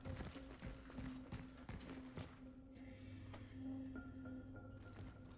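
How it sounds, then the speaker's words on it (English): Quiet, rhythmic footsteps tap along at a steady pace in the horror game Chronos: The New Dawn, faint and close over a low ambient hum. "I keep feeling like I'm hearing extra footsteps"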